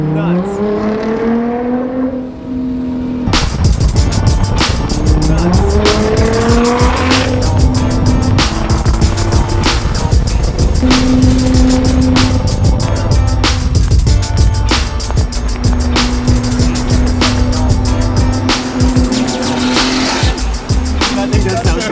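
A 650hp Nissan GT-R accelerates hard from inside the cabin, its engine roaring loud and close through rising revs and repeated gear shifts, with brief pauses between pulls and voices talking over it.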